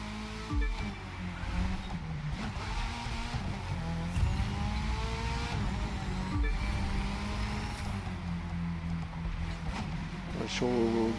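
A race car roars through a two-lap street race in The Crew 2, its engine droning and shifting pitch steadily for several seconds, with a few brief higher whines. No one talks.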